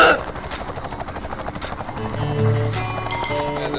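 A helicopter in the video game Ty 2: Bush Rescue makes a low, droning rotor hum that swells in the second half, mixed with busy game sounds and music.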